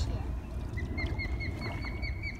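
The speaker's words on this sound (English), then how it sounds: "did you hear that bird?" A bird chirps in short repeated high calls beside a river, set against steady rushing water and low rumble, with people talking nearby.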